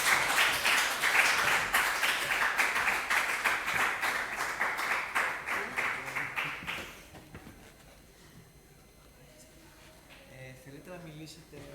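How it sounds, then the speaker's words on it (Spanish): Applause from an audience at a university lecture event in Alicante, a rhythmic run of clapping that stops abruptly about two-thirds through, followed by quieter room sound and voices. "Un aplauso a Amor"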